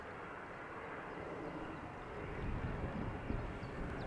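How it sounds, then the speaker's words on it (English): A departing airliner with older, low-bypass jet engines at Amsterdam Schiphol, runway 36L, gives a steady broadband roar with wind buffeting that swells slightly louder in the second half, heard from a distance with no talking. "Also an old school engine sound that you also don't hear that often anymore."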